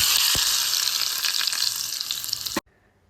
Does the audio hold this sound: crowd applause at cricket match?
no